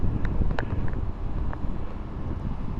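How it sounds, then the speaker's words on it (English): Strong, gusting wind before a thunderstorm in Tornado Alley, Texas, buffeting the microphone with a loud, continuous low rumble and a few faint higher clicks, with no talking. "the wind is really getting up"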